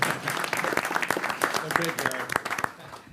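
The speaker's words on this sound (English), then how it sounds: "And we can give a clap to Paul, too." A crowd claps steadily in a room at a village board meeting, with a voice speaking over the applause.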